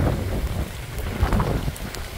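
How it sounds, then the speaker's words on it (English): Wind and rain from Hurricane Ian in Tampa in 2022, gusty rumbling wind with rain pattering steadily nearby and a few sharper drop hits, loud and continuous with no voices. "It's already a little gusty, a little wet."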